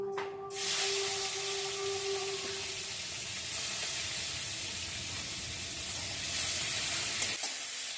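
Prawns coated in salt and turmeric hit hot oil in a pan and burst into a loud, steady sizzle that keeps hissing for several seconds, then cuts off abruptly near the end.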